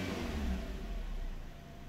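A Suzuki Swift engine with a vacuum leak revs up strongly then eases back down, a rough mid-pitched roar heard close and alone.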